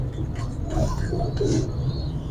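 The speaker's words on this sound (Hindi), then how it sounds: "व्यूअर्स बताइएगा फ्रांस से कबूतर कैसे लगे आपको" Breeder pigeons from France coo softly in a loft in Rawalpindi, a few low throaty calls over a constant background hum.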